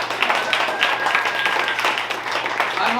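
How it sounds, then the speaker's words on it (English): An audience at a comedy show breaks into lively, full applause and clapping, loud and continuous throughout, with some crowd noise mixed in. "And a big round of applause to this guy."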